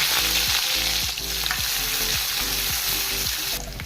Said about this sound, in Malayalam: അരിഞ്ഞു വെച്ചിരിക്കുന്ന സവാള പച്ചമുളക് ഇഞ്ചി വെളുത്തുള്ളി എല്ലാം ഇട്ട്